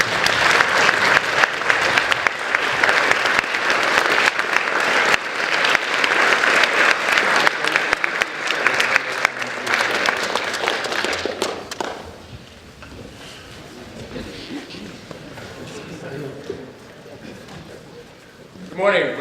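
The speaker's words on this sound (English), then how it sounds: "now for the people who really deserve the applause" Audience applause honoring veterans at a high school Veterans Day celebration, loud dense clapping for about twelve seconds that then fades into quieter room noise and murmuring voices.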